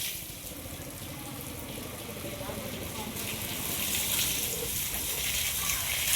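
Water gushes steadily from a hose being given to an elephant, a continuous rushing flow that grows slightly louder toward the end, with a person talking over it throughout.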